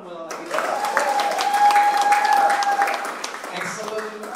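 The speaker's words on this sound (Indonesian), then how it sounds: "Kasih tepuk tangan lagi." A church congregation at a live-streamed worship service claps as sustained applause rises and then tapers off, with a tone and a voice sounding over it.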